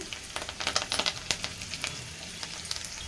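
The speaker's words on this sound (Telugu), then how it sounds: "ఈ మసాలాలోనే వేయించి తీసుకుంటున్నాను" Brinjal masala with curry leaves fries in a pan, a close, continuous sizzle broken by scattered crackles and pops, with no voices.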